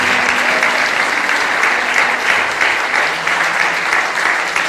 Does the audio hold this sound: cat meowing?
no